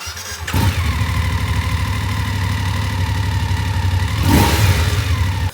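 A BMW F850GS motorcycle on its stock exhaust starts and settles into a steady, loud idle nearby, with a throttle blip near the end.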